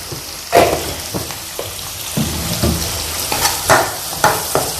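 Onions frying in a pan with a little salt while being stirred, a steady sizzle broken by repeated sharp scraping strokes of the spoon at an uneven rhythm.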